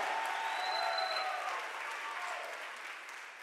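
A church congregation claps together in sustained, dense applause that fills the room, fairly distant and steady, then fades a little toward the end.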